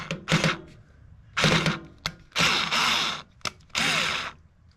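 A Rolson cordless screwdriver whirs in short on-off bursts close by, four or five brief spurts of motor drive separated by pauses and small clicks, with no talking.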